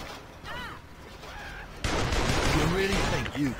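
Gunfire in Saints Row 2 erupts as a dense, loud burst of shots in the second half, following quieter game ambience with faint chirping sounds.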